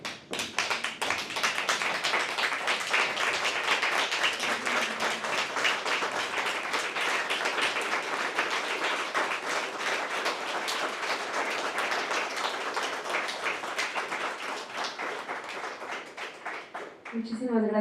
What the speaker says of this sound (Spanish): Me gustaría, como un favor muy especial, que le diéramos un aplauso a Fray de pie